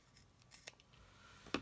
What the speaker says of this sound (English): So let me just cut this off this way.